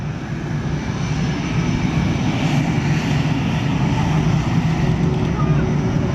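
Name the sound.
F/A-18 Hornet jet flying past at air show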